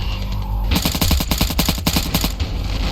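Rapid machine gun fire in the video game Ravenfield, a loud, steady burst of evenly spaced shots lasting about two seconds after a brief quiet lead-in, with no talking.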